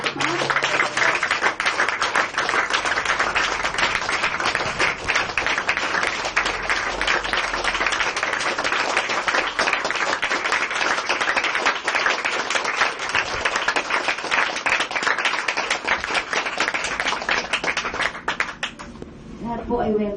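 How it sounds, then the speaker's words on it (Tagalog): Loud, dense applause from a church congregation at a Filipino praise-and-worship anniversary service, sustained and even for about twenty seconds before thinning slightly near the end. "malakas at palakpak."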